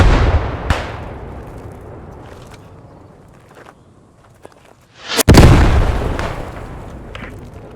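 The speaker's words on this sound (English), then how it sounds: "You can hear the sounds of debris landing after an explosion." Explosions in the video game Post Scriptum: a sharp blast early on, a rumbling decay, then a second, louder, close detonation followed by a long roaring tail with scattered debris clatter.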